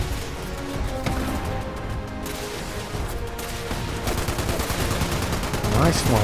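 A machine gun fires in Fallout 76 as sustained rapid rattling bursts, growing denser and louder toward the end, with a continuous backdrop of game noise.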